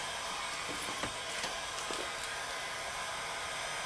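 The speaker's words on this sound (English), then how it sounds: "you could take like a heat gun and you could dry it that way" A heat gun set to medium blows steadily while drying Duracoat paint on an AR15, a loud, constant airy whoosh with a few faint clicks and knocks, no talking.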